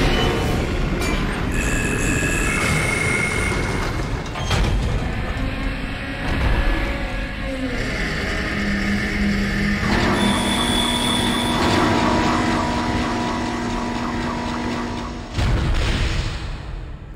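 A tram rolls along its rails in the Dead Space video game, a loud, steady rumble with squealing wheels, metallic clanks and shifting tones over about seventeen seconds, with no talk.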